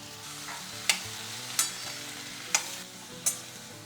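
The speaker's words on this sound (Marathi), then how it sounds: "तर गॅस पुन्हा मोठा केला आहे आणि आपण हे थोडंसं परतून घेऊयात." Tomatoes with celery, carrots and coriander stalks sauté on high gas for cream of tomato soup, a steady sizzle broken by four sharp utensil clinks against the pan.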